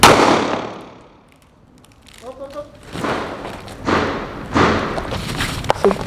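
A gunshot fired at Level IIIA body armor cracks loudly at the start and fades, followed by quieter thumps and handling noises, with people talking afterward.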